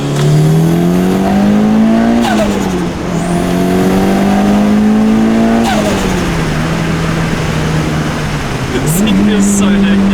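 A Mitsubishi EVO accelerating hard as its turbo spools up, the engine pitch rising in long sweeps broken by gear changes, loud and close throughout, with a brief high whoosh near the end.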